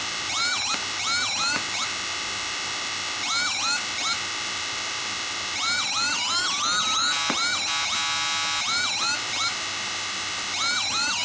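An AS920 electronic siren box, controlled by wireless remote, cycles through loud wailing and yelping siren tones, repeating in bursts with brief pauses between patterns.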